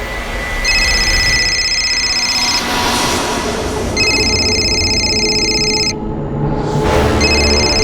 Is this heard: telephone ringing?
yes